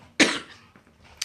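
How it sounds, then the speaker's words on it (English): A single sharp cough, close and fairly loud, followed by a faint softer throat sound and a brief catch of breath at the end. "I've still got a bit of a cough."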